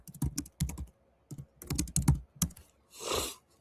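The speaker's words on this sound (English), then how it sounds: "so if you type in" Computer keyboard keys tapped to type a search query, in quick clustered bursts of close, crisp clicks with short pauses, ending in a softer swishing stroke; no voices.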